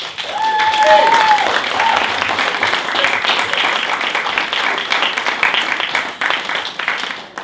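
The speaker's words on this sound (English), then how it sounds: "My next line was going to be, please hold your applause, but not necessary." Audience applause follows the announcement of a humanities teacher excellence award, sustained dense clapping that holds steady for several seconds at close range.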